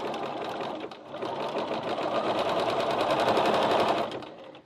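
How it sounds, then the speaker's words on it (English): A sewing machine runs a steady zigzag stitch, attaching fabric to soft foam stabiliser for bag making, a continuous close mechanical whir with fast rhythmic needle ticking that holds for several seconds before slowing at the end. "to attach your fabric to your soft and stable, I'm using a zigzag stitch"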